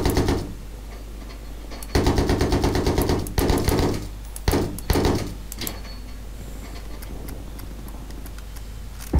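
Battlefield 3 gunfire on Karg Island, several rapid bursts of automatic fire starting and stopping over a constant low background hum.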